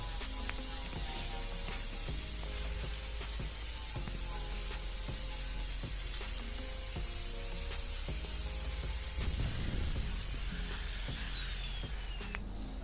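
A grinder working over a dented car body panel during dent repair, a steady high whine with a faint rising-falling pitch and scraping contact noise, continuous and fairly close with no talk.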